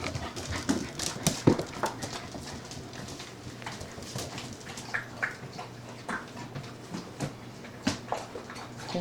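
A puppy plays indoors, its claws clicking and tapping on the floor in quick irregular bursts, with panting and small snuffles close by and no talking.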